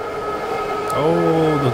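Train in the skateboarding video game Grind Session, a loud rumble joined partway by a sustained multi-tone horn blast that swells and holds to the end.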